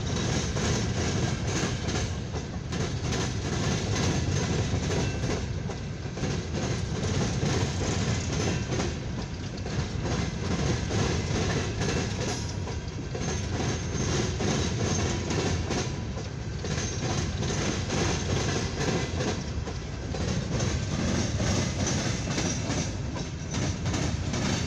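A long CSX freight train of empty coal hoppers rolls past steadily at close range in Fostoria, a continuous loud rumble with rhythmic clickety-clack of wheels over rail joints and occasional metallic squeal, no voices.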